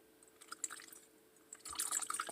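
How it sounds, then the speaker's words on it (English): Homemade almond extract pours into a container in a quiet kitchen, giving faint trickling and dripping that swells into a fuller, brighter stream of liquid toward the end. "the only thing we have to do now is pour this"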